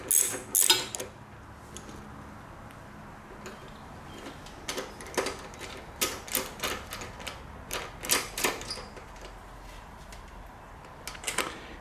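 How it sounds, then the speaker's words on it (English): A 5mm Allen wrench works a seat bolt loose on a Honda VTX 1300R motorcycle, a close series of sharp metallic clicks and ticks in uneven bursts over quiet background, with no talking. "we just have one bolt there, which takes a 5mm Allen wrench. And so we'll get that coming off"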